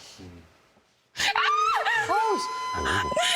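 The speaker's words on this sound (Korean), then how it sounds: "화장실에서 왜? 여자 비명 소리가 들리는 거예요." A woman's loud, wavering scream from a restroom, rising and falling in several sharp cries, bursts in suddenly after a near-silent opening and carries on to the end.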